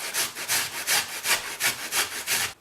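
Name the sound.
grating fresh ginger on a grater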